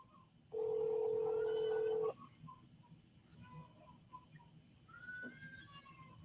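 A telephone dial tone plays while a guest is rung for a call-in on a Liberian broadcast. A steady tone lasts about a second and a half, followed by quieter beeps and faint background sounds.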